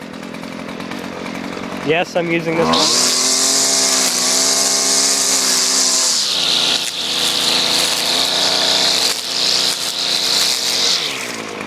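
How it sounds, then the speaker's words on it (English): A Husqvarna 128LD gas string trimmer cuts weeds at about quarter throttle, whining at a high, steady pitch up close, holding its speed with slight dips, while a person briefly speaks over it. "I'm using it about quarter throttle, and you can see how much torque it has."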